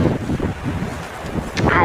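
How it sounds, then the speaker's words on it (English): Strong gusting wind buffets the microphone outdoors near water, a loud continuous rumble that swells and eases over a couple of seconds. "I didn't check the wind speeds, but it feels like it's gusting 25"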